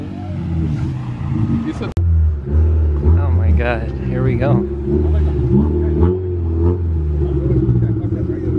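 A sports car engine revs loudly with a rough, throaty exhaust at a rainy car meet, rising and falling close by while a person talks over it.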